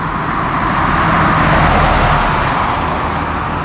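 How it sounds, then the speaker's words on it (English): A truck rolls past on a coastal village road in Southwest Harbor, Maine, its loud, steady engine and tire roar filling the whole stretch, close by, with no voices. "I'll wait till this truck passes."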